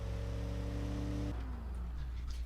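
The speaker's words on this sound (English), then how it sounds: "I do kind of like that V8 sound, to be honest." A 1950s luxury car's V8 engine in the Automation tycoon game holds a steady harmonic drone, then drops abruptly partway through as the revs fall. It plays steadily throughout with no talk.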